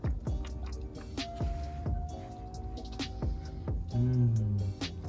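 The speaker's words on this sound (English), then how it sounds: "so that oil is now dripping" Engine oil drips from the sump of an Audi A5 into a drain pan during a service, with irregular close drops landing over a low background hum.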